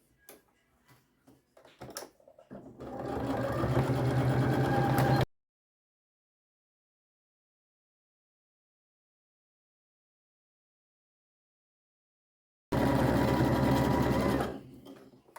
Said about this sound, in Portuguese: Eu vou terminar de costurar e já volto.